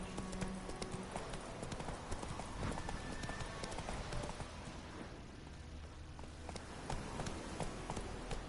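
Hooves of Roach, the horse in The Witcher game, trot in a steady clip-clop rhythm over rough ground, moderately close, with game ambience and faint background sounds beneath.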